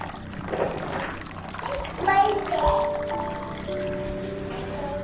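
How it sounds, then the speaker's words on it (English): Water trickling and dribbling out as a wet towel is twisted and wrung, up close, while someone talks over it. "we're just going to keep twisting it to wring out the water"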